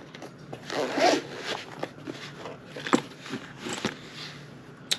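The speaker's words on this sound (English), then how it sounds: "you open the box, you get this cool zippered carrying case" A zipper pulled open around a zippered carrying case for a Mantis Blackbeard laser training system, a long rasping pull near the start followed by shorter handling rustles and clicks, close and moderately loud.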